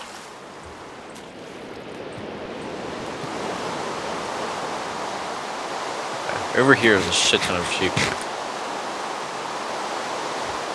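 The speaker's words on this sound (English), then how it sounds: "the rain is pouring really loud" Dense, steady hiss of heavy rain pouring in a game world, with someone talking briefly over it partway through.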